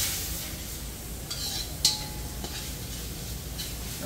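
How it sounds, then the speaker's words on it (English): Bora (long beans) frying in seasoning in a pan for a Guyanese-style dish: a steady, close sizzle runs throughout, with one brief metallic clink near the middle. "Fry this up for a little bit, and not for too long, just to flavor it up"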